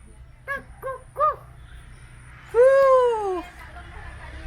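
A spotted dove (tekukur) gives a few soft, rounded coos in a short rhythmic series, then a longer, stronger drawn-out note, heard nearby over a faint steady background hum.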